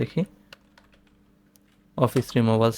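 A computer keyboard is typed on in a short run of light, scattered key clicks to enter a search keyword, with someone speaking briefly before and after the typing.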